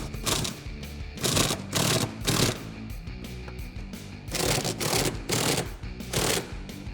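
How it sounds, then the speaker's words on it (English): Bursts of a pneumatic impact gun with an 18mm socket rattle in short, loud runs with pauses between, a rapid mechanical hammering repeated several times, tightening bolts on a 2018 Jeep Wrangler JL. "Using our same 18mm socket on our impact gun, we're gonna go ahead and tighten them down."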